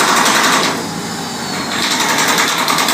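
Impact wrenches tighten connection bolts on a crane-held rigging truss at the Paramount theatre in Cedar Rapids, giving a loud continuous buzzing rattle that dips briefly mid-way before resuming at full strength.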